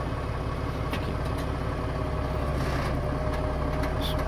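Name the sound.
1941 Dodge WC13 truck engine, put in gear and creeping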